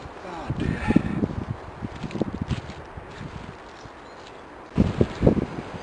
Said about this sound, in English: the wind's starting to get up and it's blown my camera over a couple of times